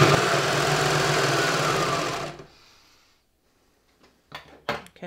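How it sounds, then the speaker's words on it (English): A serger stitches a seam on a fleece hat, a loud rapid mechanical whir for about two seconds that stops abruptly, followed by near silence and a few soft handling clicks. "All right, so let me just serge this."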